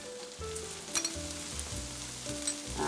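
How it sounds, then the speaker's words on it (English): Onion and potatoes seasoned with salt and turmeric sauté in a pan, giving a soft, steady sizzle broken by a few light scrapes and clinks of stirring. "Our onion and potatoes are sauteing very well together"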